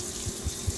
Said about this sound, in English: So, we're going to turn the water back on.